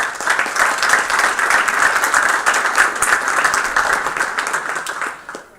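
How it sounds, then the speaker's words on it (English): A board meeting audience applauds in a dense, even round of clapping that holds steady, then fades out at the end. "Would you give her one more round of applause?"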